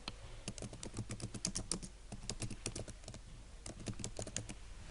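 Rapid keystrokes on a computer keyboard, typed in quick bursts with short pauses, crisp and close.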